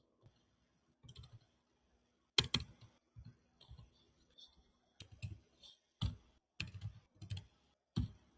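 Numbers being keyed into a computer keyboard: sparse, close clicks arriving in short irregular clusters with pauses between, heard alone, with no talking.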